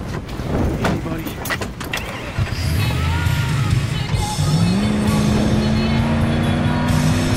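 A car engine in the Battlefield 4 campaign revs up and climbs steadily in pitch as it accelerates during an escape, loud and close after a burst of clatter and gunfire-like hits at the start.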